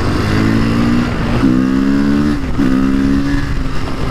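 A Honda CRF motorcycle accelerating close by, its loud engine rising in pitch through repeated pulls, with a clear drop between each rev climb and a steady roar throughout.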